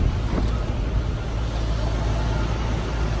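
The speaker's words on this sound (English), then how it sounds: "Engine's nice and quiet." A restored 1977 Ford Bronco 4x4 with a 302ci V8, running while driving, gives a steady low rumble blended with broadband road and wind noise, loud and continuous with no talking.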